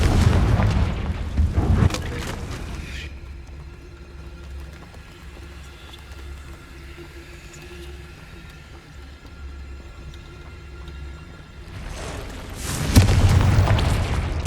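Confringo spell blasts in Hogwarts Legacy, two loud booming explosions, one at the start and one near the end, separated by a long stretch of quieter rumbling ambience.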